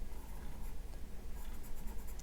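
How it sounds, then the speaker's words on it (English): The broad side of a pencil lead drags across paper to block in shadows, making a steady, close, papery scratching with quick repeated strokes and no voices. "You could also use the side of your pencil"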